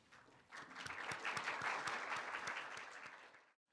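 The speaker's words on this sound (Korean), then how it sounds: "여러분 뜨거운 박수로 맞이해 주시기 바랍니다." Audience at a Korea-Japan economic forum applauding to welcome the host's opening speaker, dense clapping swelling in, holding steady and then stopping abruptly, moderately distant in a large hall.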